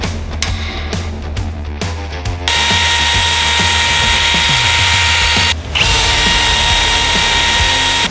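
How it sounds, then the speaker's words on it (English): A power drill bores holes in a Toyota sway bar. A few short stuttering bursts come first, then a loud, steady high whine, one brief pause, then more continuous drilling, all close up. "I have drilled my holes in my sway bar"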